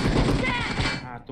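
A brief volley of video game gunfire, rapid shots packed together over about a second, with voices talking at the same time.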